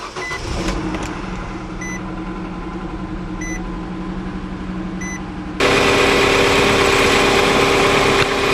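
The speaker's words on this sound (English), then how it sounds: "now all you gotta do is start the engine and let the oil circulate through the engine" A 2008 Nissan Versa engine idling just after an oil change: a steady mid-pitched hum with a few faint electronic beeps, then it grows noticeably louder and fuller partway through as the engine runs on, close up.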